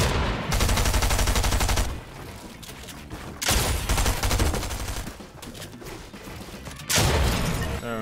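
Rapid bursts of automatic gunfire from a video game played with controller settings, loud and close, in two long volleys separated by quieter stretches of lighter shooting.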